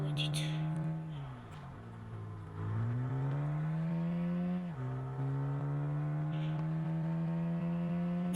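A car engine hums steadily up close with a low droning tone, dipping and rising in pitch as it slows and picks up again, with no talking.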